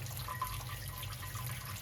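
Sparge water runs into a home-brewing vessel during a Citra beer brewday, a quiet, even stream of flowing water.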